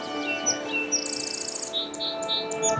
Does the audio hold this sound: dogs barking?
no